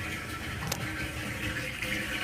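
Water rushes steadily out of the drain hose of a Panasonic manual washing machine after the drain knob is turned, a continuous close gushing wash with no pauses.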